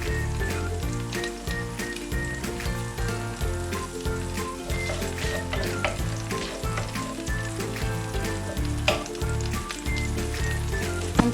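Crushed garlic frying in oil for crunchy broccoli with oyster sauce, a steady dense sizzle with fine crackling pops running continuously and close up, no talking.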